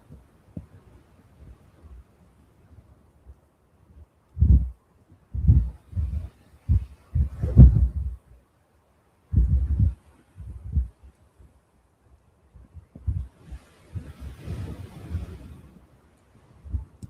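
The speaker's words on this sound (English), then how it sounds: "Jesus, this wind." Gusty wind buffets an outdoor microphone at Newcastle International Airport, making irregular low, rumbling thumps in several bursts, with quieter gaps between them and a longer rough rush near the end.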